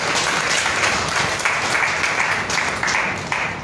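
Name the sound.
audience applause at poetry gathering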